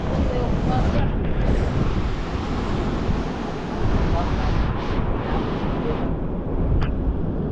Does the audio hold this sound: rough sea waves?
yes